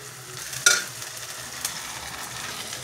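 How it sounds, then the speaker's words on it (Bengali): Ginger garlic paste frying in a hot pan, a steady moderate sizzle with a few sharper stirring clicks and scrapes, close and alone without talk. "আদা রসুন বাটাটা দিয়ে দিই।"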